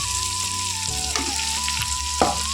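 Cooked rice being stirred into frying masala for chitranna, a loud continuous sizzle with a steady tonal hum and intermittent scraping stir strokes, one firmer scrape near the end.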